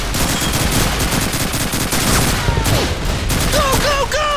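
Sustained gunfire from the Call of Duty 2 video game, a dense fusillade of rifle and machine-gun shots throughout, loud and close, with whistling effects near the end.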